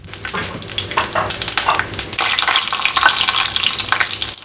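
Mustard seeds and urad dal crackle and spatter in hot oil in a kadai, a close, dense run of sharp pops over a steady sizzle lasting throughout.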